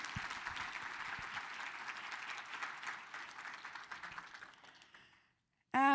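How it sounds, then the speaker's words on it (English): A large audience applauds steadily after opening remarks at the Harvard Kennedy School, dense sustained clapping that holds for several seconds, then thins and fades to near silence before a sudden loud burst at the very end. "So if we could give everybody a round of applause,"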